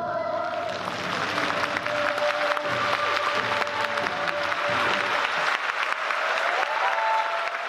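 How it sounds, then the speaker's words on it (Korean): An audience claps warmly after a Korean traditional music performance on stage, a dense, steady round of applause from a crowd that carries on and fades toward the end. "관객들은 뜨거운 박수로 화답을 합니다"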